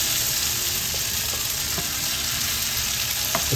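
Shrimp dropped into a pan of pinakbet with tomatoes, a steady loud sizzle and frying hiss with a few soft stirring clinks, no voices.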